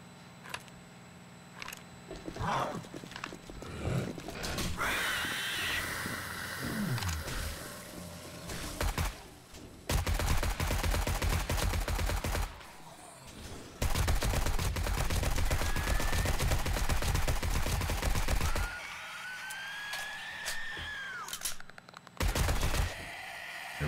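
Rifle shots in the survival video game 7 Days to Die come in loud bursts and single cracks, separated by quieter stretches of ambient game sound.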